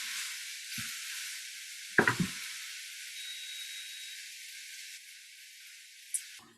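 Old Bay seafood seasoning sautés in a pan as a steady, soft sizzling hiss, with a brief clatter of a utensil against the pan partway through and a light tap near the end.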